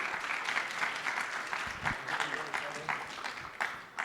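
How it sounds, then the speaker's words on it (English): Audience applause fills the room at a live talk on trader psychology, a dense steady clapping from a crowd that carries throughout, with a few voices mixed in. "Round of applause"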